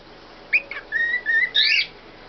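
Meeko, a pet bird, whistles a clear series of high tonal notes: a couple of short chirps, then sustained and rising whistled phrases, close and moderately loud in a quiet room.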